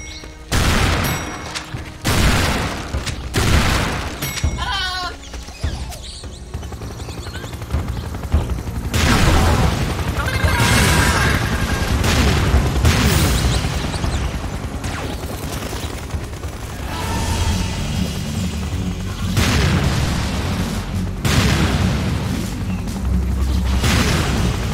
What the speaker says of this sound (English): Use that turret and keep them at bay.